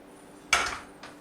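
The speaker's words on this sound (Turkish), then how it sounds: "Bir tava aldım. Bunda şimdi öncelikle kıymamı koyuyorum." Minced meat goes into a frying pan for a börek filling, giving a sudden close clatter and thud followed half a second later by a smaller, softer knock.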